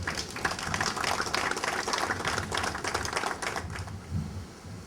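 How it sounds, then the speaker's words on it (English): An audience at a tribute event in the Bahamas, welcoming Louis Farrakhan at Nygard Cay, gives a round of applause, a dense crackle of many clapping hands that fades out near the end. "I think he deserves a round of applause"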